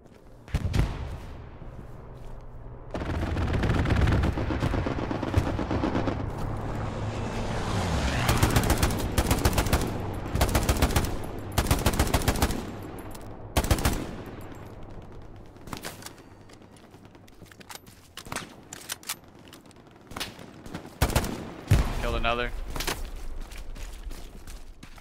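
STG44 rifle fire and machine gun bursts in the war game Hell Let Loose crack out in rapid runs and single shots, loud and close, with quieter gaps and distant fire between bursts.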